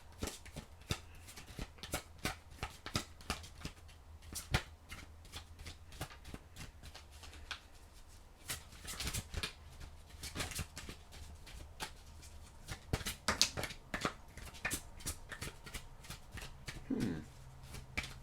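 Tarot cards are shuffled by hand in quiet, repeated riffling bursts with soft slaps and flicks, continuing close and unhurried for around eighteen seconds.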